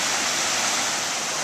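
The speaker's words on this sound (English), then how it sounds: "This is Sanatoga Creek, as seen from North Sanatoga Road, flowing south toward East High Street." Floodwater of Sanatoga Creek rushing over its banks after heavy rain, heard as a loud, continuous broadband roar of flowing water, close and unbroken, with no voices.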